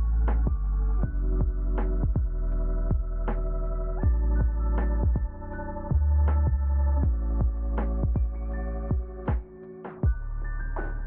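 A fiber laser marks a powder coated tumbler turning on a rotary attachment, giving a steady low hum with a regular series of sharp pulsing ticks repeating about every second, close and continuous without speech.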